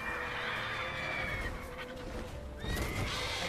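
Roach, Geralt's horse in The Witcher 3, whinnies twice in a long shrill neigh, with hoofbeats and game ambience underneath and no talk.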